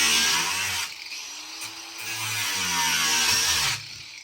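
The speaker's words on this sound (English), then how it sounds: "I found that when I use a grinder, it actually works even better." Angle grinder cutting the top off a plastic Home Depot bucket, a loud, steady high whine with a brief dip near one second and again toward the end as the blade moves along the lip.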